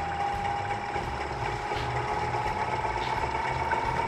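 A wood lathe spins a hard birch burl with bug holes at 1500 RPM, making a steady, loud mechanical hum with a constant high whine and a rumbling low drone, with no voices.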